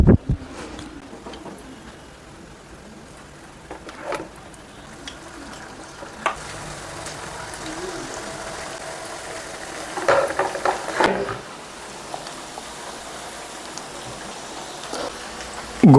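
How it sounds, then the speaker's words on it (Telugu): Vegetable manchurian balls deep frying in oil until golden brown, giving a continuous close hiss and crackle that swells in bursts midway and near the end, with no voices. "గోల్డెన్ బ్రౌన్ కలర్ వచ్చేంత వరకు వేయించుకోండి."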